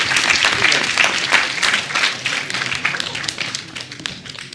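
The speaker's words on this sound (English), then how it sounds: "Can we give him a applause?" Audience applause at a hackathon elevator pitch round, a dense burst of many hands clapping that stays loud and steady, then thins slightly toward the end.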